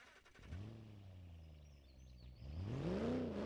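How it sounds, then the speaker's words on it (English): A Roadster Sport car engine in BeamNG.drive cranks and catches, settling into a low, steady idle before rising into a throaty rev near the end, heard alone at moderate volume. "So first of all, we'll turn the car off and start it up."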